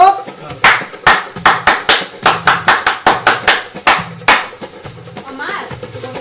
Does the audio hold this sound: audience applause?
yes